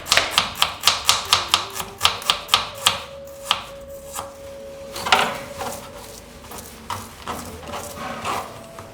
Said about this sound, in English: Peel the onions and take out fine slices out of it like this.